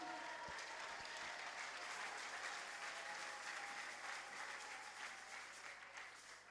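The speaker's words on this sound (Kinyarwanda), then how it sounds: "ujye uyikomera amashyi" A church congregation claps during worship: dense, sustained applause from many hands, loud and close, slowly thinning toward the end.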